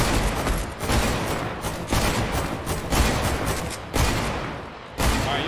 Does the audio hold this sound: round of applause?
no